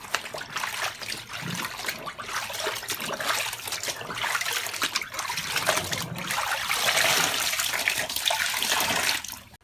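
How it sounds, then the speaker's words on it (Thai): Tie-dye fabric dipped into water for a second soak during a children's art activity, a continuous loud sloshing and trickling of water with splashy surges, close and without talk. "เรากำลังจุ่มน้ำรอบที่สองนะคะ"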